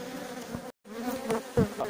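Honeybees buzz loudly and closely during a hive inspection after smoking, a dense droning hum with individual bees zipping past the listener, broken by a brief gap.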